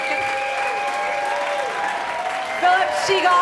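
A New York concert audience applauds a string band, a broad wash of clapping from a seated crowd with voices and cheers mixed in, swelling slightly louder near the end.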